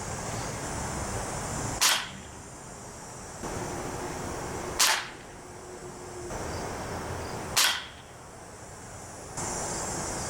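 Three sharp air rifle shots from an MTR77 NP firing H&N Barracuda Hunter Extreme 9.26 grain pellets at 20 yards, spaced about three seconds apart, each a crisp crack over a steady outdoor hiss.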